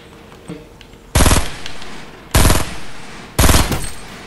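Three loud bursts of automatic gunfire from the Fortnite video game, each a rapid close volley lasting under a second, separated by short pauses with faint in-game background sound between them.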